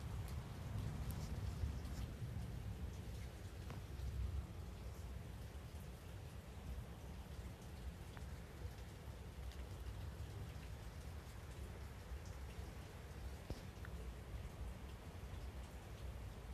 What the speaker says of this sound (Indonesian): Tapi hujan gak sih? Ini hujan di sini.